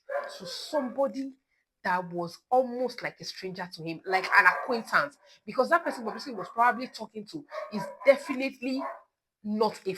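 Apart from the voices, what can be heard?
neighbor's dog barking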